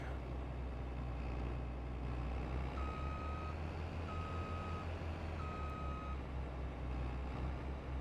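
A truck in Farming Simulator 22 rumbles at a low, steady drone while a reversing alarm beeps three times at even intervals over the constant engine noise; no one speaks.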